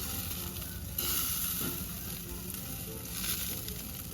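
Chicken barbecue pieces sizzling steadily on a grill, a close, continuous hiss and crackle with no talking.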